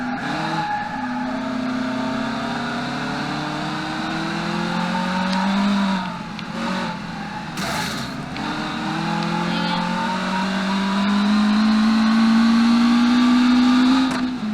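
A 1990s supercar-style track car drifting in the BeamNG simulator game, engine droning and rising in pitch with tire squeal during slides, loud and steady, with someone talking over it.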